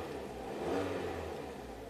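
A 2012 Kia Forte with a high-idle fault rising in a brief, muffled engine rev, a smooth low hum that swells then eases over two seconds, quiet and unaccompanied by talk.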